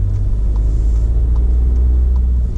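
A car drives straight ahead at steady speed during a driving lesson in Tübingen, a loud continuous low engine and road rumble from inside the cabin, with no talking.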